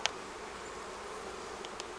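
Honey bees in an opened beehive buzz in a continuous faint drone, with a couple of nearby wingbeats passing close.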